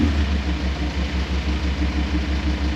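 A VW Amarok fitted with a Kufatec exhaust sound booster idles roughly, giving a low, evenly pulsing engine rumble at close range with no talking.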